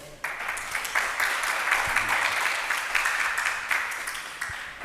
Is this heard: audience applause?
yes